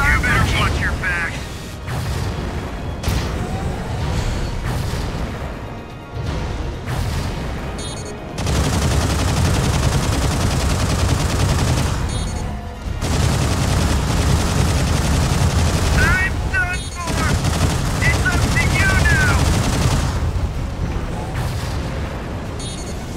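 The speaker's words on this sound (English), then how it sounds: "Oh boy, you have beam rifles." Beam rifles firing in Mobile Suit Gundam: Crossfire, with dense bursts of blasts and booms nearly continuous over a loud battle din, broken by brief gaps, with voices heard at times.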